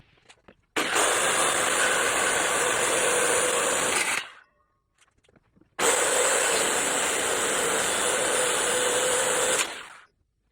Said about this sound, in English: when I cut all the way through the legs aren't going to clamp my blade and have the saw kick out on me